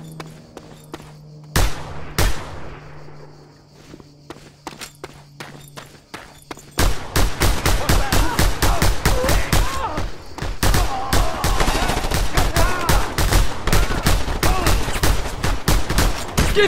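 Gunfire in the video game Just Cause 2: a couple of sharp isolated shots, then a loud sustained barrage of rapid automatic bursts, close and dense, with faint game ambience early on.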